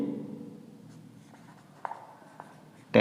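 Pen writing trigonometric functions on paper, a faint steady scratching with a few soft taps, ending in a louder knock.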